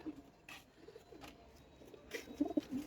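Pigeons in a loft, including hens, coo softly and faintly, with a few low murmuring coos clustering near the end over quiet background noise.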